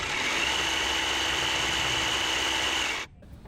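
A Toro commercial battery hedge trimmer runs at its high speed of 4,100 RPM, a loud, steady whine with a buzzing edge that holds evenly for three seconds and then cuts off abruptly.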